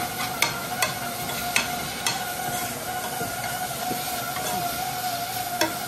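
Grated onions cook in a chicken curry pot with a steady, soft sizzle, broken by occasional light clinks and scrapes from stirring.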